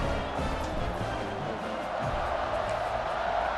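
Stadium crowd roaring in EA Sports College Football 26 as the kickoff follows a touchdown, a steady dense wall of cheering noise at moderate level with a commentator's voice faintly mixed in.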